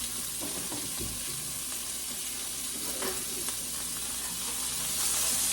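Onions sizzle quietly in a frying pan, a continuous gentle hiss with faint crackles that swells slightly near the end.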